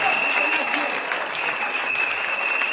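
A congregation at a church service applauds in acclaim of the faith, a dense, steady wash of clapping that fills the room throughout.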